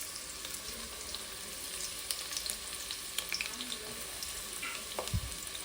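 Chillies crackling in hot oil for a tempering for an Andhra-style chicken curry: a steady, dense sizzle with scattered sharp pops and crackles, fairly faint and continuous, with a low thump near the end and no talk.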